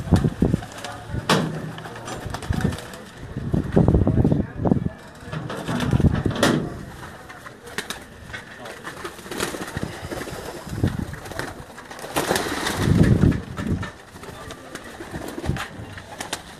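Pigeons coo in short repeated bursts at a breeding loft with cages below and a marquee set up for guests, the calls rising and falling close by over a steady background, with occasional knocks and wing sounds.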